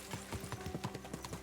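Horses' hooves clip-clopping in Kingdom Come 2, a steady rapid rhythm of hoof strikes on the ground, close and continuous with no talking.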